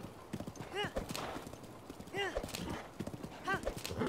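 Rhythmic clip-clop of galloping horse hooves in The Legend of Zelda: Breath of the Wild runs throughout, with a whooshing sound recurring about every second and a half and speech mixed in.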